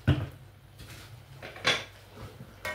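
Chicken and vegetables stirred in a metal cooking pot with a utensil, a few sharp clanks and scrapes spaced apart against a quiet background, fairly close.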